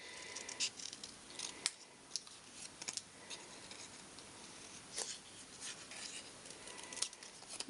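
Scissors snip through paper for a home decor frame craft project, a series of quiet, close, crisp cuts in an irregular rhythm with short pauses between strokes, no voices.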